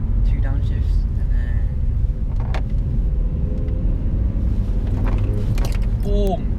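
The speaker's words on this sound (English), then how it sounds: "Downshift, downshift, 2 downshifts" A car's engine and gearbox rumble steadily as the driver downshifts twice, a close, low cabin drone with slight shifts in tone, heard under someone talking.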